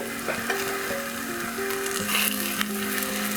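Mushrooms fry in butter and oil, giving a close, bright sizzle with crackling pops and faint scraping as they brown, loud and steady throughout.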